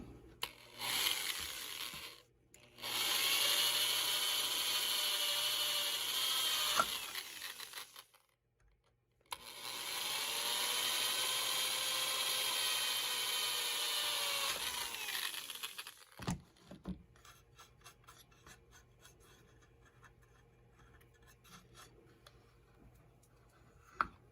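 Two long stretches of a power drill whirring steadily at close range, driving screws into a dust collection port on a Skilsaw Classic circular saw, separated by a short pause, then quieter clicks and handling noises.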